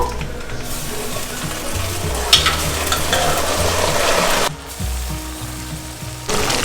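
Boiled mutton is added to fried onions in a hot pan and stirred hard. Loud sizzling mixes with repeated metallic scraping and clattering of a spoon, with brief pauses between strokes, heard up close.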